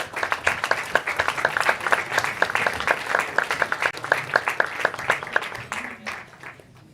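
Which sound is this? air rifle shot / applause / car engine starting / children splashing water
applause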